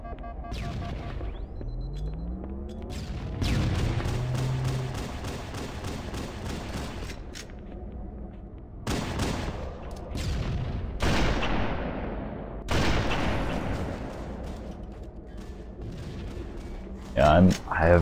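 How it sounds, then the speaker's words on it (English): Gunshots in the shooter game Halo CE: repeated sharp blasts and bursts of fire, some single and some in quick runs, spread across the scene with a voice talking between them. "I can hear what direction shots are coming from"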